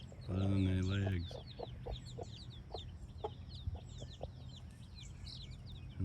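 Hens cluck on pasture during broody-hen care, with one loud drawn-out call near the start followed by a steady scatter of softer clucks and chirps nearby.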